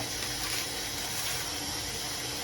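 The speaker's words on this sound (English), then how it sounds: "So you want to turn your water on, warm water" Warm water runs steadily from a bath faucet, a constant broadband rush filling the whole stretch at an even, fairly quiet level with no voices.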